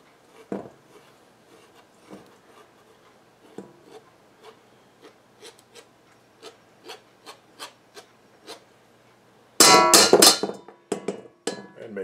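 Bits are scraped off the outside of bread dough for an 1893 bread recipe, a series of short, dry rasping scrapes at an uneven rhythm, then a louder burst of rough scraping near the end.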